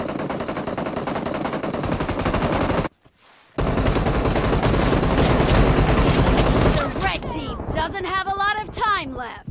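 Sustained machine-gun fire in the video game BGMI, a long dense rapid burst that briefly cuts out and resumes, with speech and sharper effects near the end.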